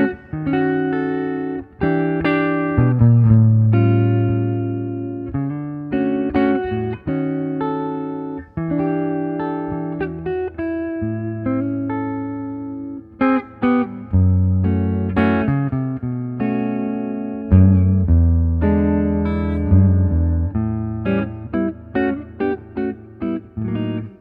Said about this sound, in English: I'm gonna play the neck pickup. It's another arcane, vintage Telecaster humbucker